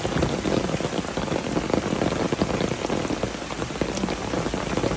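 Heavy rain pours down nearby in a dense, unbroken hiss of drops hitting surfaces, loud and steady throughout with no voices.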